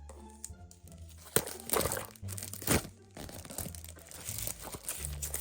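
Plastic film being peeled off cheap earbuds packaging, close crinkling, tearing and crackling in several bursts with a few louder rips, no talk.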